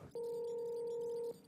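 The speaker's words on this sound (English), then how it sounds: "Oh, sorry, getting a phone call." A phone rings during a streamed skit: one loud, steady electronic tone held for just over a second, then cut off cleanly, with no talk over it.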